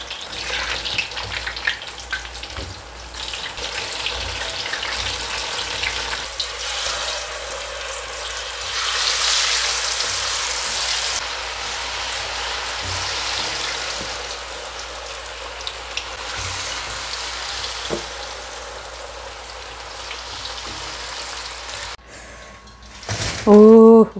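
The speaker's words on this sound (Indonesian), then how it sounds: "Aku kalau goreng telo itu aku tutup ya, biar mateng dalamnya." Sweet potato frying in oil in a covered pan, giving a steady broadband sizzle that swells midway and runs for most of the stretch, with a few clinks and a short louder burst at the end.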